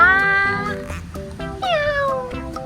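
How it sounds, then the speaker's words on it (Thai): A cat meows twice in close succession, loud and near, the second call a long drawn-out falling whine, with faint background noise of a large playground. "นี่มันเป็นเจ้าแมวม่แอบนอนตรงเนี้ย"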